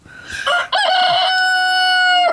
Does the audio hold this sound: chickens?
yes